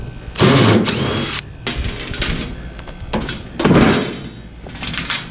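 Metal door panel being pulled off a package heat pump unit during teardown, with two loud clattering, scraping bursts of sheet metal handling separated by quieter rustling and knocks, close by with no talking.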